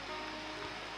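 Rain falls steadily over a small forest village, a soft, even hiss of drops with no voices and no breaks.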